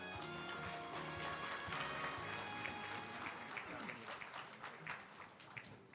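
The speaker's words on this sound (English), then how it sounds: "let's give them another applause." A centennial celebration audience claps together, a continuous fairly soft wash of applause with some overlapping voices and tonal background sounds mixed in.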